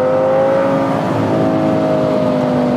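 An Audi R8 Spyder V10 with a 5.2-litre engine and manual gearbox revs hard toward 8000 rpm, a loud, sustained engine roar close by whose pitch climbs steadily with no talk over it.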